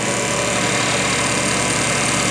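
Car engine running steadily during mechanical distributor tuning and timing tests, a continuous close idle-to-mid hum with even vibration and no talk over it.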